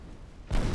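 A torpedo launches from a warship in a naval warfare video game, a sudden heavy thump and rushing burst that cuts in after a quiet low rumble and holds loud to the end.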